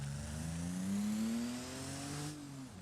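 Engine of an Ibishu Claria wagon in a racing game revs steadily and climbs in pitch, then eases off near the end, close and loud with no talk.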